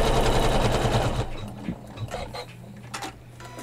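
A sewing machine stitches quilt fabric for a flange-quilted pillow, a fast steady whirring run up close that stops after about a second, followed by a few faint clicks and handling noises.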